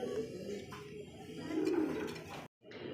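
Red checker pigeons cooing in a loft, soft low murmuring coos blending into a steady close background hum, with a brief silent gap near the end.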